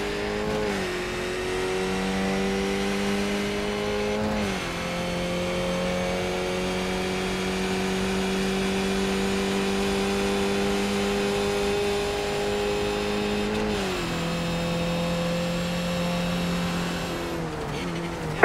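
Skip Barber race car engines in the iRacing sim at Charlotte Motor Speedway drone steadily at high revs, with brief pitch dips around shifts or corners and a faint tire squeal, loud and continuous throughout.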